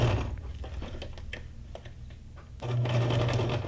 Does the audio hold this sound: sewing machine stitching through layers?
yes